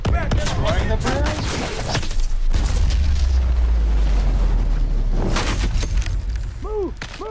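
A bridge blowing apart in Call of Duty: Advanced Warfare, loud rumbling blasts and crashing debris in a heavy sustained roar amid gunfire, with shouted voices and game sounds around it.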